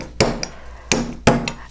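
Metal is hammered flat between bench blocks: three sharp, loud strikes ring out at uneven intervals, each followed by a faint light tap.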